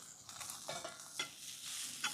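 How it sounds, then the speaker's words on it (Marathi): Green chili, ginger and garlic sizzle in hot oil while being stirred, with soft scraping and a few sharper clicks of a utensil against the pan. "हिरवी मिरची अद्रक लसूण व्यवस्थित आपण भाजून घेऊ थोडंसं तेल घालून घेऊ"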